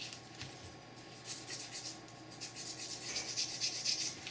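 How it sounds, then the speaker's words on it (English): Sandpaper rubbing back and forth on a Cabot 1911 pistol frame, a steady close scratchy hiss in short repeated strokes with no talking. "sand it a little."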